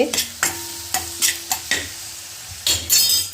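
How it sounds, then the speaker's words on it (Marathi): Chili powder and turmeric are stirred into garlic frying in a pan, with a spoon scraping in a quick repeated rhythm of sharp strokes over a soft, close sizzle. "आता टाकते तिखट एक ते दीड चमचा थोडीशी हळद टाकते थोडं फिरवून घेते"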